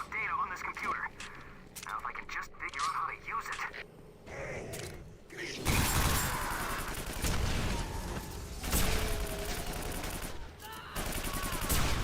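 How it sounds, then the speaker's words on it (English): Rapid nail gun fire in the sci-fi shooter Quake 4, a dense, loud stream of repeated shots running in bursts through most of the stretch, with someone talking over it. "I'm supposed to be using the nail gun now that I have the lock-on mechanism"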